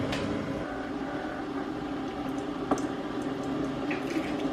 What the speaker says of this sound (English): now that we have a coffee grinder that actually grinds the coffee, I can grind the rest of that